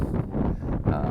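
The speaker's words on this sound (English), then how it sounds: "It's a nice windy morning." Steady wind buffeting a microphone outdoors on a windy morning in a home garden, a continuous low rumble filling the whole moment with no speech.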